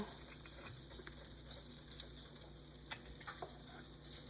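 Butter and olive oil sizzle in a pan, a steady close crackle and hiss with small pops throughout.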